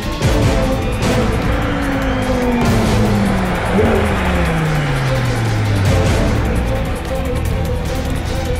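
Audi R8 5.2 FSI Quattro driving on a test track, its loud engine note sweeping down through gear changes with steady road and tire roar, close and continuous.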